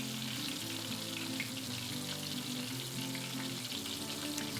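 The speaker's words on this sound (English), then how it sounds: "you can kind of tell what's going on by the amount of bubbling, sizzling that's still going on" Catfish frying in hot grease, a steady close sizzle with dense crackling and bubbling that keeps going without a break, and no voices over it.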